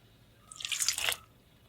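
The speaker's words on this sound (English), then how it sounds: "Next, add some water, just a little bit." Water splashes briefly into a bowl of flour and egg while pancake batter is mixed, a short bright trickle rising and fading over about half a second, close and fairly quiet.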